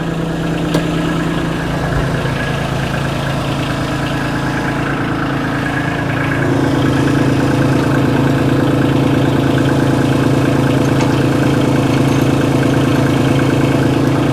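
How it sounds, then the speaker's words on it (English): A Kubota tractor engine idles steadily with a low, heavy rumble, then the throttle is tapped and the engine settles into a louder, higher-revving hum that holds to the end. The tractor is fitted with an LA534 front loader, and no one speaks. "Just gonna give the throttle a tap"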